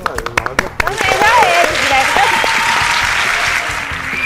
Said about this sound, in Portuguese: As palmas, né, Pacheco?